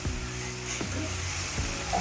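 Ginger garlic paste frying in a pan for chicken biryani, a soft continuous sizzle with a couple of stirring knocks, fairly faint and close, with no voices over it.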